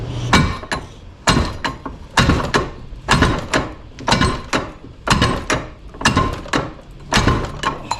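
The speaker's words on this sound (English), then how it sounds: "I'm going back to get the slide hammer also" A steady series of loud metallic impacts, a slide hammer banging back repeatedly in an uneven rhythm, close up, pulling a bushing during a 42RE transmission rebuild.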